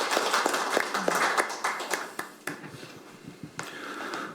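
Scattered applause from a seminar audience honoring a naval battle veteran, with irregular claps close by over a steady crowd wash, thinning out toward the end.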